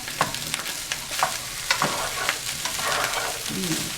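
Chicken with potatoes and mushrooms sizzles in a pan, a close steady hiss broken by repeated scraping and stirring clicks at irregular intervals, with no speech over it.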